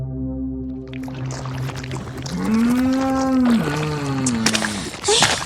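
A carabao, or water buffalo, lows in long drawn-out moos with wavering pitch, several calls in a row heard close and loud, with faint outdoor background noise between them.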